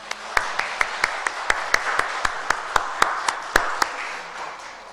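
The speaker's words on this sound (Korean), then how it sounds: "박수 한번 해주시기 바랍니다." A church congregation applauding during a Sunday morning service: a sparse, rhythmic clapping, with sharp evenly spaced claps standing out over softer scattered hand claps.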